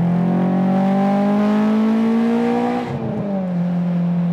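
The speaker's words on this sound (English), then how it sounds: "This is the wheel spin at 6 grand." A Honda S2000 engine holds a loud, steady high rev near 6000 rpm during wheel spin, the tone climbing slightly before dipping and settling, with continuous close drone and no talk.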